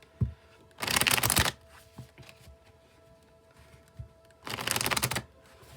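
A tarot card deck shuffled by hand in two loud riffling bursts, the first near the start and the second toward the end, with quiet pauses and a few soft taps in between.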